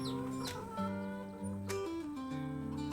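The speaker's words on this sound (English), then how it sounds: "we got the golden and the Owendale chicken outside the coop" Chickens clucking in the Farming Simulator 25 video game, including golden and Orpington-style hens outside a coop, with steady overlapping clucks and calls over a bright layer of game music.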